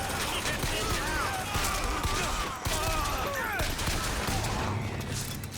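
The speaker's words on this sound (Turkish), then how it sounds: "Bizim robot vuruyor." An allied robot in BioShock Infinite fires its guns in steady rapid bursts with a mechanical edge, running continuously for several seconds beneath voices.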